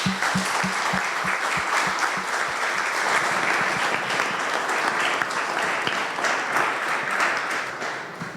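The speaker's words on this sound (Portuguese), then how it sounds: "dê uma salva de palmas em gratidão a esses" A church congregation at a missionary congress gives a sustained round of applause, dense and loud throughout, with a few heavy rhythmic thumps early on beneath the clapping.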